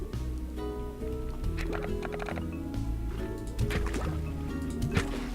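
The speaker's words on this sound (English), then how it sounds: "Just gonna whack you both with water." Water spray shot at slimes in the video game Slime Rancher, a steady liquid gushing with drippy, gurgling bursts layered over continuous game music.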